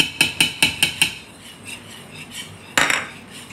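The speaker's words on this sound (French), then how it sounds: "tu vas mélanger toute la farine avec" A utensil mixes flour into sautéed chicken in a pan, beginning with five quick, even metallic taps and then softer scraping, followed by one sharper clatter.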